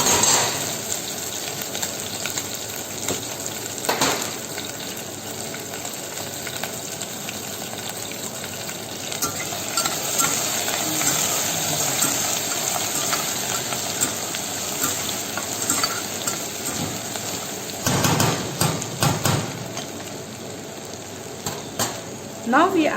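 Ginger paste frying in hot oil over a lowered flame, a continuous close sizzle with intermittent stirring scrapes and clatter of the pan.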